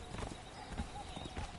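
Horse hooves clip-clop in a steady trotting rhythm from a mount in Conan Exiles: Age of Sorcery, moderately close over a busy game ambience.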